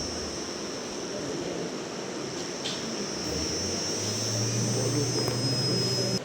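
Small battery-powered DC motor running under a speed regulator, a steady high-pitched electric whine that shifts in pitch as the speed changes, with a low hum rising partway through, no talk.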